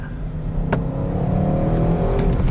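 Loud engine roar from inside an Audi RS6 C8 under hard acceleration, rising in pitch as it powers through a sharp turn, steady and close.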